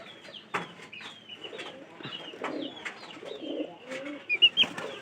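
Several pigeons kept as pets coo in overlapping low murmurs and bursts, with clucking-like calls and a few sharper flutters toward the end, close by and moderately loud.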